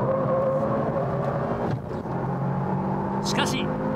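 Race cars, a Mitsubishi Lancer and a Honda NSX, battling on the Fuji Speedway circuit in 1998, heard as a loud sustained engine drone from onboard with a commentator talking over it.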